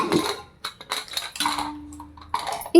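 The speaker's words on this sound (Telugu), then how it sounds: "ఇక్కడ నాకు మా వారికి కాఫీ అయితే కలుపుతున్నాను" A metal spoon stirs coffee in a cup at home, giving a run of bright clinks and scrapes in uneven bursts, close and fairly loud, with a short tonal hum partway through.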